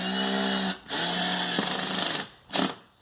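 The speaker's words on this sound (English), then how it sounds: "using our torque drill on the lowest torque setting" Close, loud whine of a torque drill on its lowest setting driving a screw into a plywood cabinet, in two sustained bursts followed by a short final spin.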